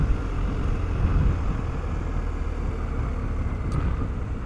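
A BMW R 1250 GS motorcycle engine hums low and steady at around 2000 rpm in fourth gear along a small mountain road, with constant wind rush over the rumble.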